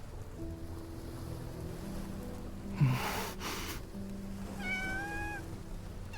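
A cat in the video game Love and Deepspace meows, rising twice in clear repeated tones near the end, over steady ambient waves and wind in a quiet game scene; there is no talking.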